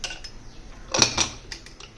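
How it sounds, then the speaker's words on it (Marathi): A metal inner lid being fitted onto a pressure cooker during home cooking, giving a few light clanks and scrapes of metal on metal, the loudest two bunched together midway, close and alone. "आतला झाकण लावतोय थोडी कसरतच असता"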